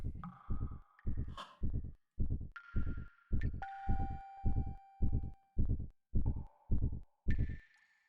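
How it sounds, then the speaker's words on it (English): Heartbeat effect in the video game Xenogears, a steady run of about a dozen deep thumping beats roughly every half second, loud and close, with high synth tones ringing over them and no talking. "Heartbeat. Yeah, I hear it."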